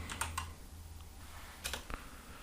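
Keys on a computer keyboard are tapped in a quick, uneven run of clicks, close and fairly quiet, with no talking.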